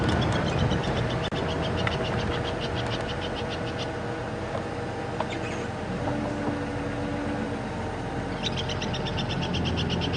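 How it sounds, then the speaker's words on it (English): Tree squirrel giving an alarm call in the bush at Djuma Game Reserve, heard as bursts of rapid, high, rattling chatter at the start and again near the end, moderately distant over a constant dense wash of insect and ambient noise. "the noise you can hear is that of a tree squirrel"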